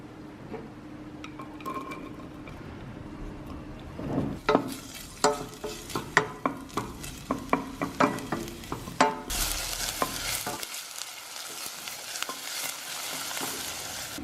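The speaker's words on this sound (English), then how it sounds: "So in a pan, go ahead and heat some oil" Onions sauté in hot oil in a pan for spicy tomato and beans rice, an ongoing sizzle with a run of sharp utensil scrapes and taps against the pan in the middle, then a louder hiss that suddenly drops away.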